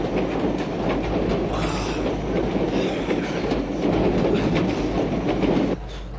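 A freight train rolls steadily along the rails, with a continuous loud rumble, rhythmic clickety-clack of wheels over joints and occasional faint metallic squeal, heard from inside the moving train.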